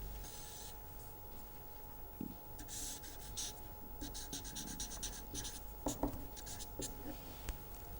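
Pen or marker scratching across paper or a board while a function curve is sketched by hand, a steady scribbling texture in bursts of strokes with brief pauses, close and fairly quiet.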